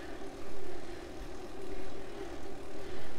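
A smart bike trainer in ERG mode whirs steadily under pedaling at 60 RPM against a 200-watt resistance, a loud constant drone with a sustained low tone and gentle swells.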